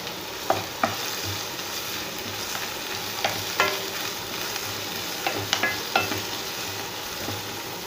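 Onions frying with curry leaves and green chili in a pan: a steady low sizzle with intermittent spoon scrapes and taps against the pan, close and fairly quiet, with no talking.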